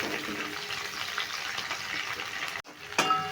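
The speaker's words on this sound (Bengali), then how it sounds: "ক্যাপসিকামটা দিয়ে আমি একটু নেড়ে ভেজে নিচ্ছি।" Capsicum being stirred and fried in a pan for a vegetarian chilli soyabean dish, a steady close sizzle and hiss with faint scraping, then a short break and a sharp clatter at the end.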